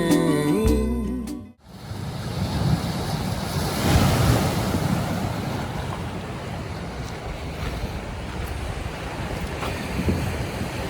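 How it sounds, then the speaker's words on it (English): Surf washing continuously onto a small beach along the Hoapili Trail, a steady broadband rush with gusty wind buffeting the microphone, following a brief snippet of music at the start. "Here we are at a nice little beach."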